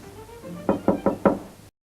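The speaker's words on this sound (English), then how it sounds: "I knocked and you said yes" Four sharp, evenly spaced knocks on a door sound close and clear in a quiet indoor room from a 1949 film scene. Nobody speaks.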